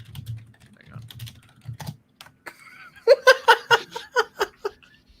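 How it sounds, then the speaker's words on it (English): Someone types the same message repeatedly on a computer keyboard, a quick run of crisp, clacking keystrokes up close, after a stretch of soft chuckling and faint, scattered key taps. "I'm gonna keep typing the same message over and over again"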